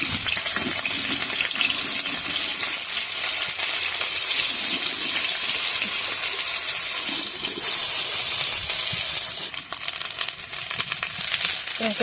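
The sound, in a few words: chopped onions frying in hot oil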